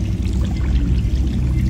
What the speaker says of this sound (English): The water's rising. The place is flooding.